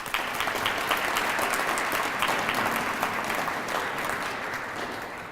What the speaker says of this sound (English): let's give them another round of applause at this time